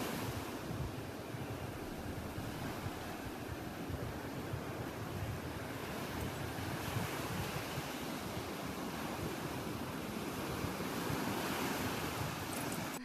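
Ocean waves wash steadily onto a shore, a continuous broad roar of surf mixed with wind buffeting the microphone, fairly distant and even in loudness, with no voices.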